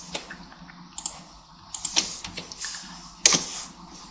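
Keystrokes on a computer keyboard entering a logo name, heard as irregular clusters of light clicks with a few sharper taps, close and fairly quiet with no talk.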